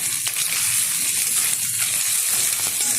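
A Katla fish head and slit green chillies fry in hot oil, giving a steady, close sizzle that holds without a break and with no voices.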